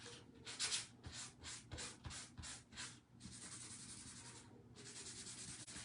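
Wax being buffed onto an upcycled painted piece with a cloth, a steady run of soft rubbing strokes that are close and fairly quiet, with no talking.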